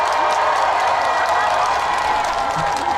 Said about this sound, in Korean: 큰 박수 한번 치겠어요?